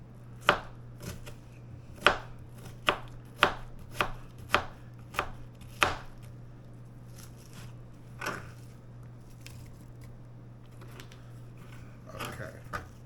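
A fresh onion chopped with a knife on a cutting board, a series of sharp, evenly spaced knife thunks close to the microphone that grow sparser and softer toward the end, over a faint steady hum.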